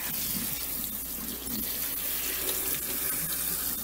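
A tap runs steadily into a sink while hair is rinsed during an at-home perm, giving a close, continuous splashing hiss without a break and without talk.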